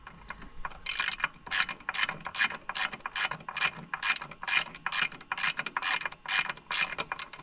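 A ratchet wrench tightens clutch kit bolts on a 2021 Polaris Pro XP, its pawl clicking in rapid bursts that repeat in a steady back-and-forth rhythm. The clicking is close, crisp and loud, with no talk.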